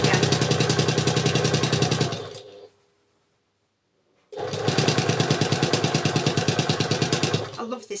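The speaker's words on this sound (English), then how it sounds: "And sew all the way down the side again." Home sewing machine stitching the side seam of a nine-patch quilt block, a loud fast steady run of needle strokes, a pause of about two seconds, then another steady burst of stitching.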